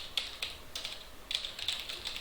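Light typing on a computer keyboard while writing an email, soft quick key taps in short irregular bursts with brief pauses, close and quiet with no other sound.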